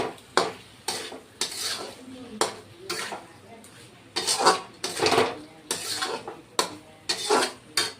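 Pointed gourd curry being stirred and sautéed in a pan, with repeated close scrapes and clanks of a spoon against metal over a soft sizzle, and a voice talking now and then.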